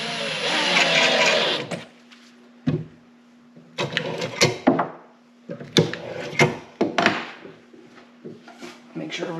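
Wooden drawer slid in and out on Richelieu/Blum drawer slides, several quick rolling, rubbing strokes with knocks as it closes, preceded by a burst of a power tool and with a faint steady hum underneath.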